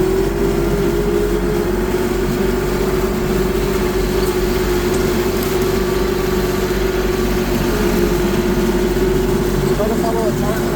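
A small tractor driving on a farm, its engine droning steadily at close range for the whole stretch, with a constant rumble and a vibrating hum and no break in the sound.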